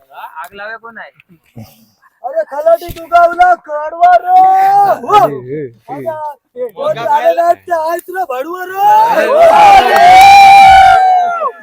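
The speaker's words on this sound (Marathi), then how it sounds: "शिमग्याची बोंब बोंब बोंब दिली आहे" Children at a Konkan village Shimga festival gathering shout the ritual bomb cry in loud, overlapping bursts, with crowd-like shouting that swells toward the end and chatter between calls.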